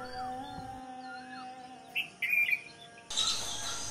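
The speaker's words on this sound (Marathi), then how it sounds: "खिडकीशी पहाटेपासूनच पक्ष्यांची लगबग सुरू होते." Birds chirp and tweet outside a window at dawn, with scattered short calls, a few louder bursts close by, and a faint steady hum underneath.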